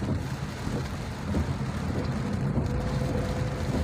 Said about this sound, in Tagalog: Yan, maulan po talaga, maulan.